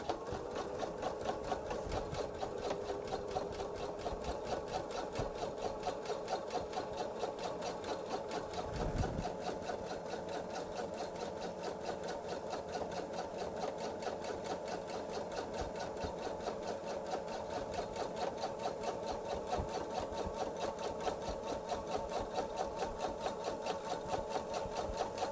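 Sewing machine running a longer stitch on a jelly roll quilt bag, a fast, even mechanical whir with rapid regular needle ticks, continuous and close, with one short thump partway through.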